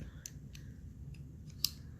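Wire cutters snip loose thread ends on a cushion, giving a few sharp, close clicks spaced irregularly over a quiet background, with the loudest cut near the end.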